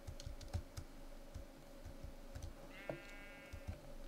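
A sheep bleats once in the Minecraft video game, a short mid-level call over steady rapid keyboard typing close by.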